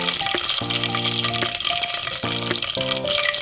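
Mustard and cumin seeds sizzling in hot oil as a Telugu fenugreek dal is made, a steady loud frying hiss with some sustained tonal background sound over it.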